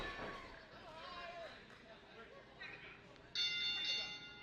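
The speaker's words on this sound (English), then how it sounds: "And the bell has rung, and we are underway here." A bell rings to open a ladder championship match at a wrestling event, a bright sustained tone rising sharply near the end over constant crowd noise and commentary.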